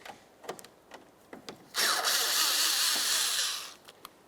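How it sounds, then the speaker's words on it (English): A power driver backs out a small Phillips head screw during headlight removal on a 1999-2003 Toyota Solara, a close, steady whirring burst of about two seconds framed by faint clicks and handling noises. "We're going to come right into this little Phillips head screw right here. We'll remove this"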